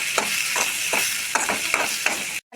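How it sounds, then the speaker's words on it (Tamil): Chopped tomatoes sautéing in a pan for a greens dish, a bright sizzle under regular spatula strokes roughly every half second, close and loud, cutting off abruptly near the end. "2 தக்காளி கட் பண்ணி போட்டு வதக்கிக்கலாம்"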